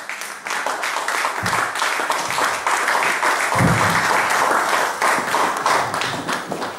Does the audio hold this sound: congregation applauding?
yes